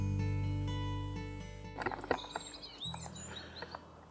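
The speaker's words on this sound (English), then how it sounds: "I can hear lots of birds around" Wild birds chirp outdoors at Dagenham Chase nature reserve: several short, bright calls close by in the second half, after a sustained tonal drone ends abruptly.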